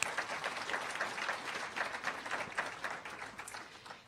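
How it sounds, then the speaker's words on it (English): Audience at a library talk applauding to welcome a speaker, a sustained moderate patter of many hands clapping in a room, fairly even throughout with no talk over it. "Let's give him a round of applause"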